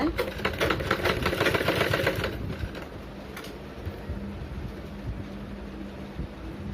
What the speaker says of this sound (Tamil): அதனால் மெதுவாக துணியை இழுக்காமல் வச்சு தைங்க.